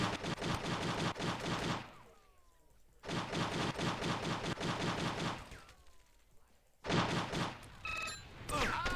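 Sniper fire and gun battle in the video game True Crime: Streets of LA, three dense bursts of rapid shots separated by short quiet gaps, loud and close, with a sharp ringing tail near the end.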